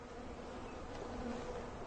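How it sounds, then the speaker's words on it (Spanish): Honey bees drone in a dense, continuous buzz at a healthy beehive just after winter, a steady close swarm hum with no voices. "Esta sí que es una hermosa colmena de abejas."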